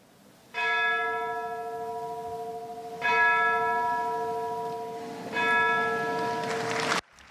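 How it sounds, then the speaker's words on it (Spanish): Three resonant church bell strikes ring out at the La Moneda commemoration, evenly spaced about two and a half seconds apart, each tolling with a long shimmering decay and no voices over them. "Tres campanadas"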